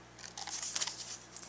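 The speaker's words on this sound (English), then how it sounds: "I'm just going to fold back those petals to give it a more natural look." White cardstock petals of a paper rose being folded back by hand, a quick run of soft crinkles and creases, close and quiet, with no talking.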